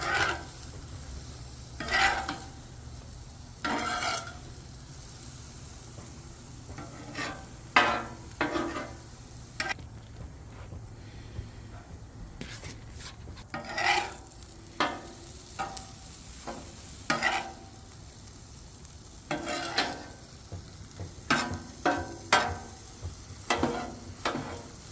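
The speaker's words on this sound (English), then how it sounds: "make sure the eggs are getting moved around on the Blackstone griddle" Eggs sizzle steadily on a Blackstone griddle while a spatula scrapes and stirs them in repeated sharp strokes, close and fairly loud over the low, constant frying hiss.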